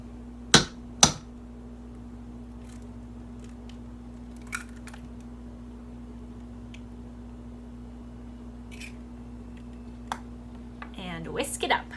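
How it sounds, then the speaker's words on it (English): Egg cracked into pancake batter: two sharp close taps on a rim, then sparse faint clicks and a brief wet rustle at the end over a steady hum. "Last step, let's crack an egg in it."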